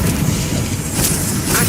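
The Incendio fire spell is cast in the video game Hogwarts Legacy, a loud, dense whooshing roar of flame with a deep rumbling boom, sustained and close throughout.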